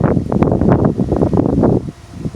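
Strong wind buffets the microphone in rapid, rumbling gusts, loud and close, dropping briefly near the end.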